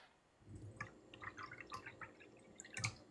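Water splashes and drips nearby at a low level, with scattered small droplet splashes and patters over a faint steady background, with no one speaking.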